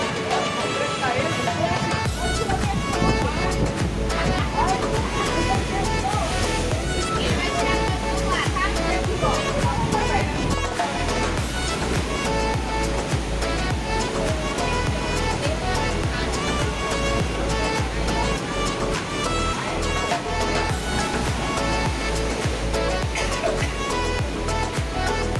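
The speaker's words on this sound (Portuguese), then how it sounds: "Olha o barulho do mar." Sea waves wash into a beach cave at Gruta da Sacristia in Ponta Negra, Maricá, a constant loud roar of surf throughout, with people talking over it.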